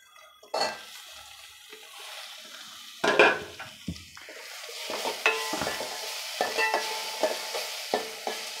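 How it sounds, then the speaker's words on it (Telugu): Tomatoes and turmeric fry and get stirred in a pan for a Nellore-style masala vada curry, with a steady sizzle under repeated scraping and clinking of a utensil against the pan and a few sharper knocks. "ఇప్పుడు టమాటాలు వేసేసుకోవాలి."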